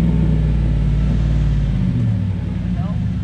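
A car engine revs hard in neutral ahead of a burnout, a loud, close, rough rumble that holds steady, then eases slightly near the end.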